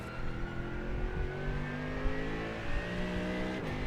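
A GT3 race car engine at Daytona in a racing video game revs hard and climbs steadily through its gears, a loud, continuous near drone with rising pitch and brief shift dips, heard alone.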